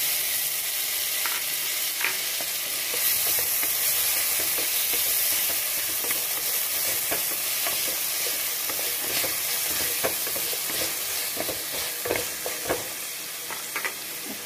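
Tomatoes are tipped into a hot frying pan for sambar and stirred, giving a loud, dense sizzle with scraping stir strokes and a few sharper spatters near the end.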